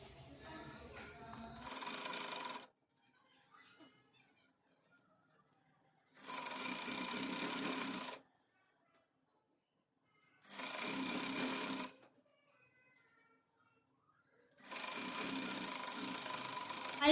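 A sewing machine stitches a folded suit fabric hem in four separate bursts, each a couple of seconds of fast, close mechanical whirring, with quiet gaps between.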